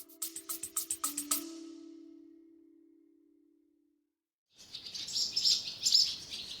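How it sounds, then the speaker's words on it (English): Swallows chirping in a large farm barn while feeding their young: a quick burst of sharp chirps over a sustained tone, then a pause, then a denser, brighter stretch of twittering calls nearby. "Swallows flying into one of the large barns at High Ash Farm, feeding their young."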